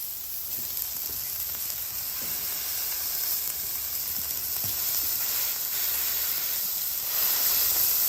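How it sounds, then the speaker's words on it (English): Beef patties frying on a hot griddle give a steady, loud sizzle and hiss that runs unbroken throughout, close up and with no speech. "All right, on the griddle they go, that hot griddle."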